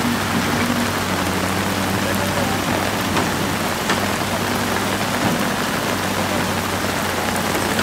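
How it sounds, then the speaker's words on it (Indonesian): Heavy rain pouring down outdoors at a road repair site, a dense, constant hiss of downpour with a low rumble beneath, steady and loud throughout. "Ini tambah deras saja ini hujan ini."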